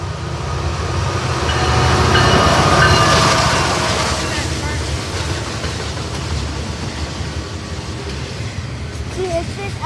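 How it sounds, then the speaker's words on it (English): An intermodal freight train led by two or three SD60E locomotives rolls past, a loud sustained rumble and rail roar that swells then eases, with faint squeals near the end. "it's this SD60E intermodal that goes by with 2 to 3 SD60Es on the front end"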